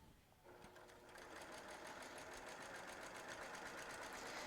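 A sewing machine stitches a quilt panel seam, its needle running in a fast, steady rhythm that starts after a brief pause and continues loud and close to the end.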